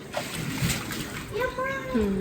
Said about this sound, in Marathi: पडला, पाण्यात पडला.